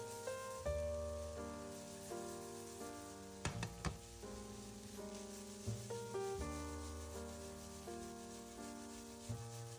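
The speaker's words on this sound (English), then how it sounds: "Saute the onion well and let it sweat down for around 3 minutes." Sliced onion sautés in a pan for shakshuka, giving a faint, steady sizzle that runs continuously beneath louder background music.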